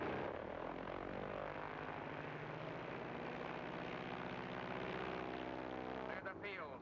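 A propeller bomber plane comes in for an emergency landing, its engines droning loud and steady throughout with a rough, throbbing low rumble, heard in a 1940s film serial.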